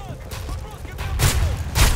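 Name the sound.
shotgun shots in Call of Duty Modern Warfare 3 video game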